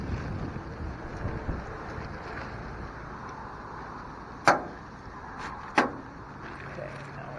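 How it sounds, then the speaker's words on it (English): Strong west wind blows steadily after a storm in northwest Florida, a continuous broad rush with gusty buffeting, broken by two sharp knocks or bangs partway through. "it's still very windy here."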